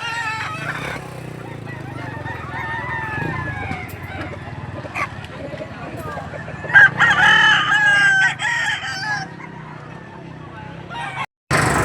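Chickens and roosters crowing and clucking at a poultry seller's stalls in Padre Garcia, Batangas, with repeated crows over a busy, steady background of birds and some faint talk.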